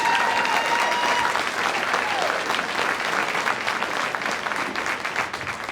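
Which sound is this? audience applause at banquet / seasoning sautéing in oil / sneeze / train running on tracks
audience applause at banquet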